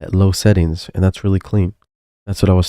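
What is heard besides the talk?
No everyday noise stands out behind the speech.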